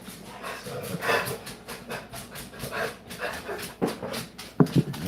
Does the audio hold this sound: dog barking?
yes